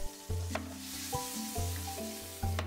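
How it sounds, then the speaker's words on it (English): Tomatoes sizzle and fry steadily in a pan, with a few louder bursts of crackling and stirring scrapes recurring through the sound, close and alone with no talking. "Fry tomatoes for a few minutes,"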